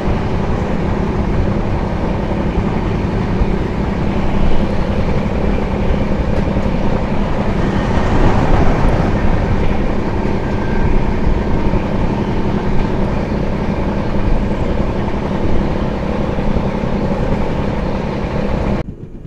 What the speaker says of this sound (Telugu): మన ట్రైన్ వచ్చేసి అరసికి డిపార్ట్ అయిపోయిందండి